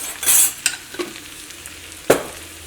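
A spoon stirs vegetable curry in a pan after turmeric powder goes in, making a few distinct scrapes and knocks against a faint frying sizzle.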